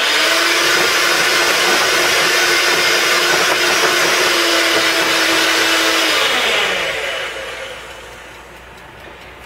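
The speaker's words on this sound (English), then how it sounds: "Now our egg whites are beaten into stiff peaks that stand straight up when you lift the beaters out" Electric hand mixer beating egg whites to stiff peaks for gluten-free meringue cookies, a loud steady motor whine with beaters whisking, running alone and then winding down and fading over the last few seconds.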